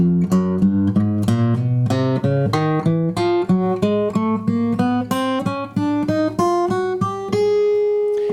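Plucked notes of a guitar fingerpicking warm-up exercise climb steadily in an even, unhurried pattern, each note ringing clearly before the next, played alone and close.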